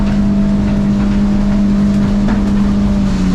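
A 2023 Allied 19 Deep Side aluminum boat's outboard engine runs at 6000 RPM, trimmed all the way out, giving a loud steady drone with wind and hull rush throughout.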